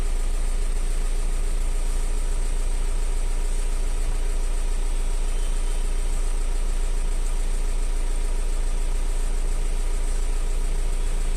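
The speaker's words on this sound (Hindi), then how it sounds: "देखिए इंजन स्टार्ट" Mahindra Bolero pickup with a BS6 engine idling steadily after starting, a continuous low mechanical hum with vibration, close and constant with no talk.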